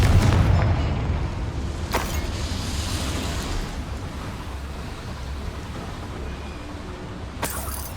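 A Confringo fire spell in Hogwarts Legacy bursts with a deep boom at the start, then a rumbling, crackling tail fading over several seconds, with a couple of sharp later cracks.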